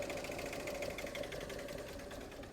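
A Ford Galaxy TDi diesel engine runs with a steady, uneven rattling chug that sounds close and continuous, then tapers slightly toward the end as it begins cutting out.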